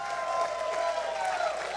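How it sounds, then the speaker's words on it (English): Brief applause from an audience at a nursery industry event, a steady wash of clapping heard at a moderate distance with voices mingling over it. "Hey, round of applause for our champs here, guys."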